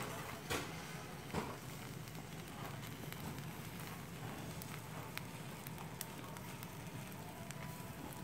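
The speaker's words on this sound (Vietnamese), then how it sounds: "Bên này lửa nhiều." Open cooking fire crackling and hissing steadily while fish and chicken eggs grill over it outdoors, with a few sharp pops standing out near the start; no talk over the burning.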